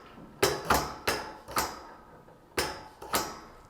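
Hammer of a bandsaw blade tooth-setting machine strikes in sharp metallic knocks, six close blows in uneven pairs, each with a short ringing tail.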